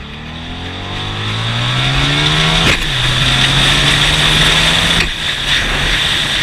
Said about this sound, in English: Listen to that V4.